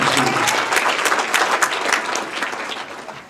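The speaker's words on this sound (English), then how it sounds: "So another nice round of applause for Steve and all he does for the Touchdown." Loud, dense applause from banquet guests at the Ashtabula Touchdown Club Hall of Fame banquet, honoring Steve; steady roar of many hands close by that eases slightly toward the end.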